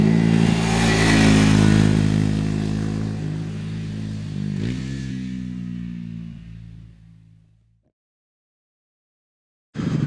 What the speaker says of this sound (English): And this is a stock exhaust